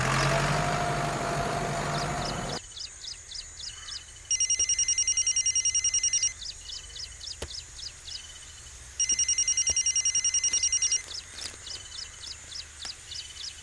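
A telephone bell rings in repeated trilling bursts with short gaps between them, fairly clear over a low engine-like rumble. An electronic warbling tone alternates with the bell.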